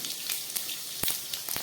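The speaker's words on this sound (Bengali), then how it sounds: "তেলটা গরম হয়ে গেছে, দিয়ে দিচ্ছি একটু গরম মশলা ফোড়ন।" Whole spices (cardamom, dried red chilli, bay leaves and cumin) tempering in hot oil, a faint sizzle broken by a few sharp crackling pops.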